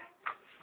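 Two short, nasal duck quacks, one brief and soft, then a louder one at the very end, close by in an otherwise quiet setting.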